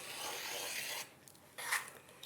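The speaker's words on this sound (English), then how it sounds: "I'm going to trim this slightly." Trimming a fabric patchwork block with star points gives a soft, close rasping cut lasting about a second, then a short pause and a brief second scraping stroke.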